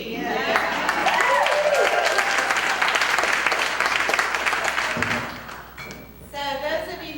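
Audience applause at an appreciation event rises strongly and fills most of the passage, then thins out as a voice begins talking near the end.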